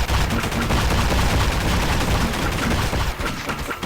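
Rapid, sustained gunfire from the video game Garry's Mod, a dense continuous barrage of shots at full loudness with no talk, easing slightly near the end.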